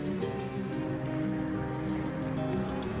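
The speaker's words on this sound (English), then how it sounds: "we summoned rain in the desert" Rain falls in the desert near the White Lake in Iran, a soft, steady patter of drops on surfaces, faint and continuous, with no one speaking.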